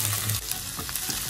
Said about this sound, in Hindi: आलू शामिल करने के बाद इसको हम चिकन और प्याज के मिक्सचर में अच्छे से इस तरह से मिक्स करेंगे